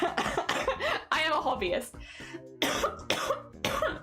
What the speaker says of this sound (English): sorry for the coughs, it's cold.